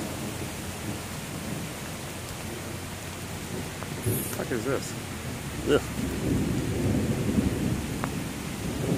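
Steady rain falls in a noisy wash with rumbling thunder in a metal rainforest setting, the downpour swelling slightly toward the end while a man briefly mutters and groans over it.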